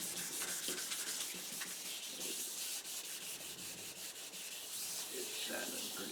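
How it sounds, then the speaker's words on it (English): Steady hand sanding on the body of a 1929 Chrysler, a continuous close scratchy rasp with rhythmic back-and-forth strokes and no voices. "It's sanding pretty good."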